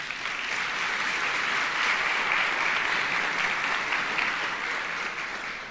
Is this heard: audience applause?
yes